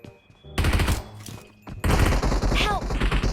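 Two loud, close bursts of rapid video-game gunfire, the second longer, with brief quiet between them.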